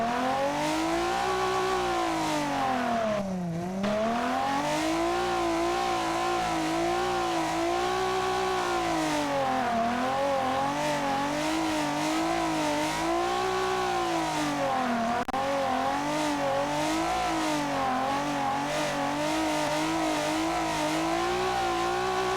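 A 2010 hot hatchback engine in the game Automation revs loudly and continuously, pitch rising and falling in repeated waves as the throttle is blipped, with a dip near the start.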